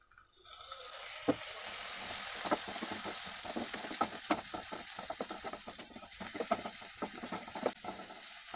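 Ginger paste, turmeric and a little water sizzle steadily in a hot pan while a spatula stirs, adding regular scraping taps over the continuous close frying hiss.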